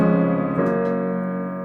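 Piano walk-up climbing the scale into a turnaround in a worship song arrangement, a couple of quick chord steps then a held, ringing chord, heard clearly with no talking.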